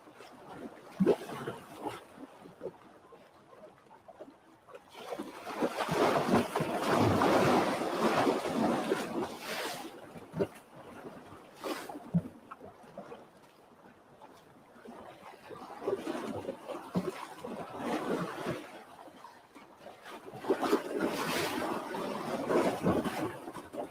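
A storm sound effect for a primary school stage play swells and fades in long gusty washes of wind and surf, rising loud around the middle and again near the end, with no voices.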